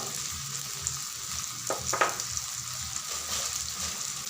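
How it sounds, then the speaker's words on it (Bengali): Cumin, red chili and turmeric powders fry in a pan for egg curry, a close, steady sizzle with a couple of sharp scrapes from stirring midway. "এবার মশলাগুলোকে ভালো করে কষাতে হবে।"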